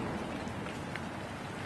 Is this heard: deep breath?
no